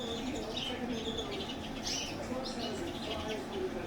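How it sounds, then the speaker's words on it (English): Young pet birds waiting their turn for a bath on a hot day chirp and coo, a busy mix of small calls with a voice murmuring in the background. "So here's some of my young birds all queuing up"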